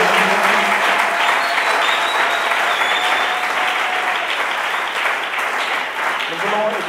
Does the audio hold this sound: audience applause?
yes